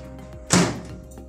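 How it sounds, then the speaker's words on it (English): The door of a Panasonic microwave oven, with a high rack and crisper plate inside, shuts with a single short thunk against a low steady hum. "Close the door."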